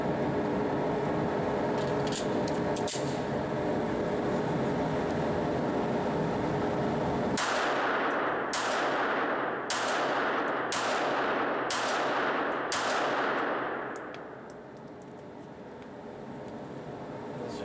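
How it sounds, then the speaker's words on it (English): Six sharp, evenly spaced shots from a new Glock 42 .380 pistol crack out at an outdoor range, each with a short ringing tail, over steady background noise and no talk. "Take a look at the first 6 shots out of the gun."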